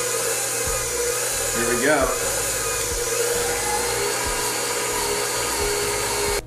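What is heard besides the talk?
stand mixer kneading dough with a dough hook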